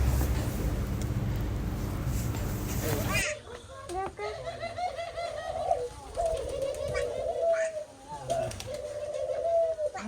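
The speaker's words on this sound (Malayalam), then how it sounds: "ഈ സൈഡ് കാണുന്നത് പ്രാവാണ് കേട്ടോ" Pigeons coo in a low, repeated rolling call at Fanja House heritage cafe in Oman, starting after a burst of broadband noise and continuing fairly close. Children's voices and chatter are mixed in.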